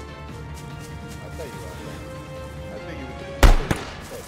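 A single sharp gunshot from the survival video game DayZ cracks out near the end, loud and close, with a fainter follow-up thud just after, over steady game ambience with no talk.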